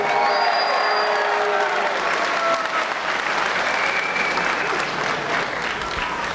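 After a fight at a 209 Beatdown event, a crowd applauds the fighters: dense, steady clapping with faint cheering fills the hall for several seconds.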